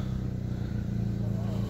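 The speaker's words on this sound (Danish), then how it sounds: "nu er selvfølgelig en bil, der skal parkere lige ved siden af mig." A car pulls in to park right alongside, its low engine rumble close and steady throughout the short stretch, with no other distinct sounds over it.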